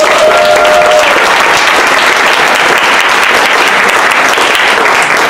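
Sustained, loud applause from an audience at an awards celebration honoring volunteers, a dense wash of clapping that stays steady for several seconds with no break.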